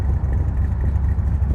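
A Shelby Ram Cobra's carburetted engine rumbles close by, a loud, lumpy low burble with a steady pulsing beat.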